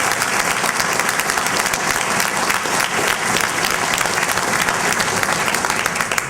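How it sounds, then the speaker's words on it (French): Sustained, loud audience applause after a stage performance of Le Minotaure, a dense and even wash of many hands clapping with no talk. "On a oublié d'applaudir quelqu'un, le rôle principal,"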